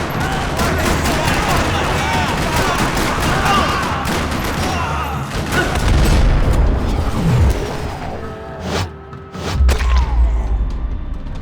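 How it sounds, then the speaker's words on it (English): Gunfire in the Max Payne 3 video game, a parking lot shootout: dense, continuous rattling bursts with heavy low thumps, staying loud throughout and swelling near the end. "Another parking lot rattling with gunfire."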